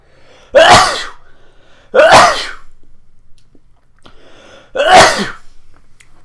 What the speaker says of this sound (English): Oh, I got a sneeze coming.